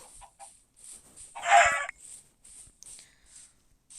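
A Minecraft chicken clucks once, loud and close, amid repeated short chirpy blips and soft clicking game sounds.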